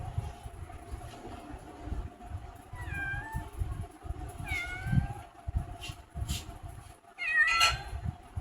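Several house cats meow in short rising calls spread across the stretch, close by, over a low steady rumble of background noise.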